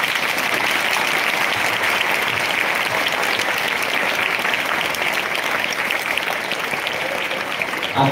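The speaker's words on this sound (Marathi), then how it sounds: "त्यामुळे पहिल्यांदा तुमच्या गुरूंसाठी एकदा टाळ्या वाजवा." Students at a school prize-giving ceremony applaud together, a dense, loud, steady wash of clapping that continues throughout.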